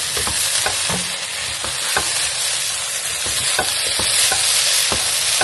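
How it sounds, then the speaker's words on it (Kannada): A spoon stirs onion rice bath with chopped coriander leaves in a hot pan, steady sizzling under repeated scraping and clinking strokes, close and continuous. "ಕೊನೆಯಲ್ಲಿ ಒಂದ್ಸರಿ ಚೆನ್ನಾಗಿ ಮಿಕ್ಸ್ ಮಾಡ್ಕೊಂಡ್ಬಿಟ್ರೆ ಆಯ್ತು."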